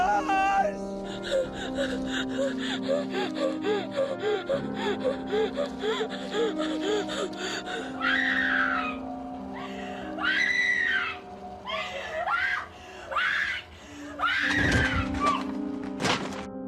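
Screams from the horror film The Blair Witch Project, a run of panicked gasps, whimpers and shrill cries in rapid bursts, some rising into loud wails near the end.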